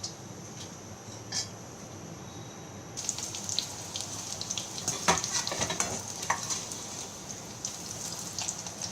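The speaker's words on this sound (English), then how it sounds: "Let me fry some more" A Maharashtrian street snack fries in hot oil for chaat, giving a continuous close sizzle. The sizzle swells louder after a few seconds, with crackling bursts and light stirring clatter.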